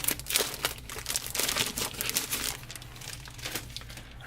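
Protective plastic film crinkling on a Corsair K95 RGB Platinum keyboard, a run of close, crisp rustles and crackles with uneven bursts, no voices over it.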